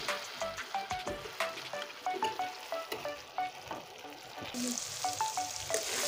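Cut potatoes sauté in spice paste in a hot pan, a steady sizzle broken by rhythmic scraping strokes of a spoon stirring.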